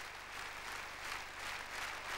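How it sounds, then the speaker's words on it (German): Audience applause for the Greek entry at the 1979 Eurovision Song Contest, a steady, distant wash of clapping that swells slightly without pause. "mehr Beifall, längerer Beifall"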